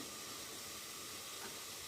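Potatoes fry in a pan while semolina paratha is being made, a faint, steady, even sizzle with no breaks or talking.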